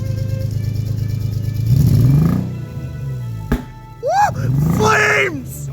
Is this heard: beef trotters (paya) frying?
no